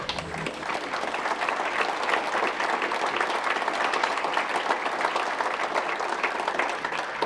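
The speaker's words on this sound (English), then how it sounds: "let's give them a round of applause as well." An audience at a city State of the City address gives staff a round of applause, steady dense clapping from a large crowd, sustained and even for several seconds.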